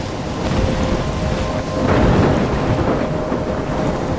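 Thunderstorm in Life Is Strange: heavy rain hisses steadily while a deep rolling thunder rumble swells in the middle and slowly fades, loud and enveloping with no voices.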